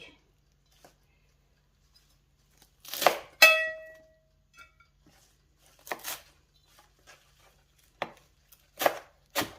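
Sparse, crisp knife chops through coriander on a cutting board, a few sharp strikes spaced irregularly with quiet gaps between them, close by.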